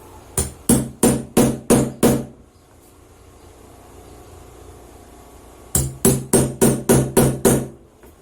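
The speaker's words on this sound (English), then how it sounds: "Be careful while using the hammer also." A hammer strikes slipper materials while children's slippers are made by hand, six sharp knocks in quick succession, then a pause, then another run of about seven evenly spaced blows, close and loud.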